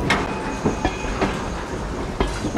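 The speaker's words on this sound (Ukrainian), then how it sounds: "а згодом пожежний поїзд" Railway wagons of a fire train roll past close by with steady rumbling and repeated clickety-clack wheel beats on the track joints, continuous throughout.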